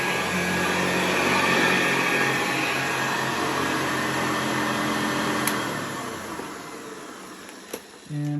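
A Hoover Convertible 704-01 upright vacuum cleaner runs with a steady close-up motor whine and airy rush, then winds down as the motor slows, ending with a couple of clicks.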